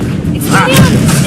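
An Expulso spell explosion in Hogwarts Legacy, a single loud, dense blast that fills the whole short moment with a rumbling boom.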